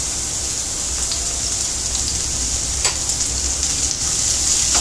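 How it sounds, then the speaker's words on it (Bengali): Chopped onion and pre-boiled carrot fry together in a pan with a continuous close sizzle, broken by a few soft clicks and crackles as the vegetables shift. "পেঁয়াজ আর গাজরটা একসাথে ভাজা দিয়ে নেব ভালোভাবে"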